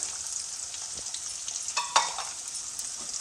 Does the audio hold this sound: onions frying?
yes